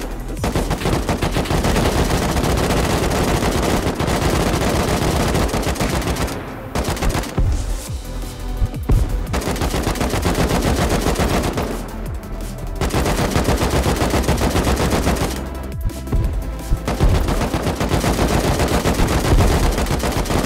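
Rapid automatic gunfire in the video game Rust rattles in long, loud, dense bursts with a few short pauses between them, close and dominating, with voices barely present.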